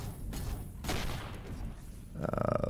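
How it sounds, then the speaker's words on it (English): Rapid bursts of turret gunfire in the space game Avorion, a continuous volley of shots that ends in a fast, even string of loud reports. The turret is a legendary gun that keeps overheating. "that gun that's shooting that keeps overheating"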